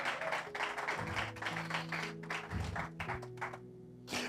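A church congregation applauds the Lord during a Portuguese-language sermon, with steady crowd clapping over organ or keyboard tones and some voices mixed in.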